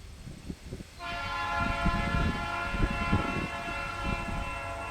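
A short northbound freight train on the CN Osage Sub near Janesville, Iowa, rumbles and clatters past after a second of quieter approach, while a sustained horn tone holds steady over the rolling wheel noise.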